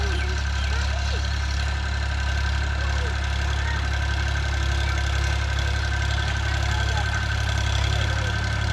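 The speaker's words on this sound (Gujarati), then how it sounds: "ચલાવે ટ્રેક્ટર 4x4 ફાર્મટેક" A Farmtrac 4x4 tractor engine runs steadily in a farm field, a continuous low mechanical drone and hum that holds at an even level throughout with no breaks.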